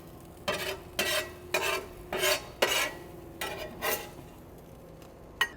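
Garlic is whisked into a simmering Philly cheesesteak queso, with about eight rhythmic scraping strokes of a whisk against the pot, each a short, bright rasp with brief pauses between them, close and clear with no talking.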